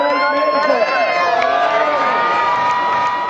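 A crowd cheers and shouts for elite road cyclists racing the Bendigo Madison, a dense, loud roar of voices and whoops that carries steadily throughout with no pause.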